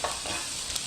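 Squid stir-fried over high heat with onion sizzles and crackles steadily in a hot pan, with a spatula scraping and tossing in quick strokes, close and loud.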